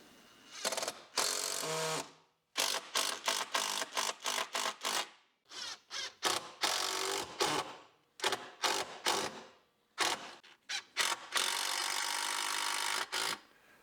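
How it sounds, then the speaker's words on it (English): Washer head screws driven through machine washers into a workbench top with a power driver, repeated whirring bursts of varying length separated by short pauses, loud and close. "I'm going to go ahead and put some screws through here."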